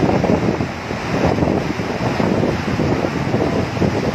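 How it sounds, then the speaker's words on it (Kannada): Water from a gate of the Bhakra Dam in Himachal Pradesh rushes out with force, a loud, unbroken roar of churning spray and turbulence with no voices over it. "ಹತ್ರ ಹೋದ್ರೆ ಭಯಂಕರವಾಗಿರುತ್ತೆ ನೀರು ಫೋರ್ಸದು"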